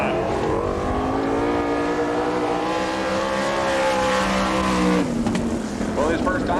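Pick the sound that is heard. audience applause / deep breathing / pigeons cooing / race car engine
race car engine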